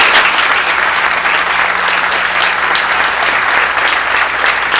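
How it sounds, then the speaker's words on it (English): At a sports season banquet, a crowd gives a sustained, loud round of applause, many hands clapping in a steady, even roar that stays level from start to finish with no speech over it. "How about a round of applause for Carol?"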